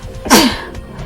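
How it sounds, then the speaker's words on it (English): A single sharp sneeze bursts out close by, quick and loud, followed by quiet breathing. "Sorry, I need to sneeze."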